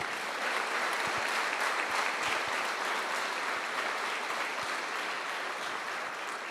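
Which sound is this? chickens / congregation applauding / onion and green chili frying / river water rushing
congregation applauding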